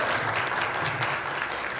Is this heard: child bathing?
no